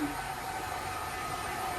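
A strong pet blower roars in a steady, unbroken whoosh while drying a pet's fur after a bath, loud and close throughout.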